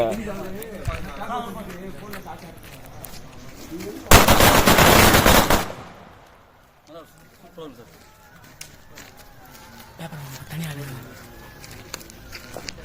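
A loud, dense burst of crackling firecracker explosions erupts for about a second and a half in Sivakasi, cutting through ongoing conversation, then people keep talking.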